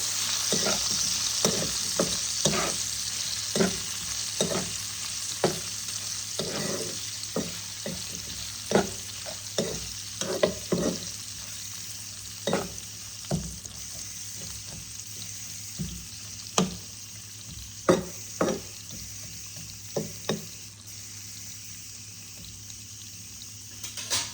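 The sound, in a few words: stirring and frying ghugni in a pan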